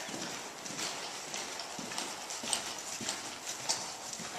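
A seven-year-old molly mule cantering smoothly, hooves clip-clopping in a steady close rhythm over continuous background noise, with no talk.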